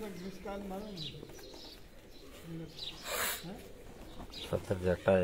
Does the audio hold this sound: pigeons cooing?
yes